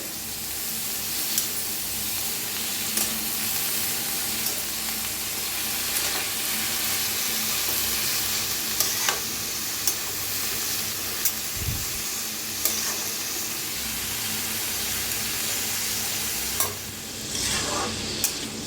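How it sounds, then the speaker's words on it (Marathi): Potato and cabbage stirred in hot oil in a pan, a steady close sizzle with frequent scraping and clacking stir strokes throughout, no voices. "तर छान असं मिक्स करून घ्यायला लागलेले आहे। छान असं भाजून घ्यायचं तेलात।"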